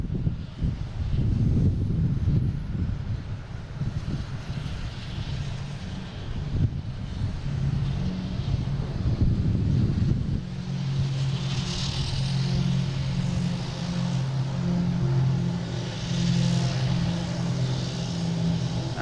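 A JetBlue airliner in Boston Red Sox special livery taxis at Boston Logan airport, its engines producing a steady low rumble and whine mixed with wind noise that carries on throughout.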